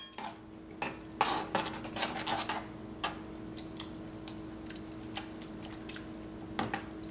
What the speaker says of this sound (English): Make sure it's no clumps. Just keep mixing